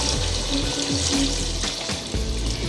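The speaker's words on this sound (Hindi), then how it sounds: "अब मैं इसमें पानी डाल रही हूँ" Water is poured steadily into a cooking pot of spiced chicken nihari stock, with a continuous rushing splash and faint clinks of the pot. It runs close and loud with no talk.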